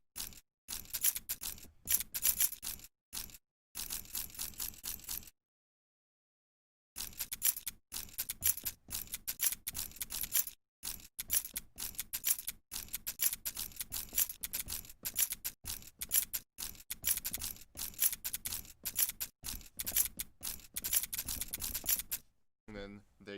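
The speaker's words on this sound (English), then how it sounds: "a beat made out of key sounds" A beat built from sampled key sounds, with metallic jingling and clicking hits arranged in a choppy rhythmic loop, dropping out briefly near the start and then continuing steadily, moderately loud.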